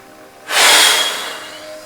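A deep, forceful breath drawn in during a yoga intestinal exercise, a loud airy inhale that starts abruptly and fades slowly over a second or more, with no talking.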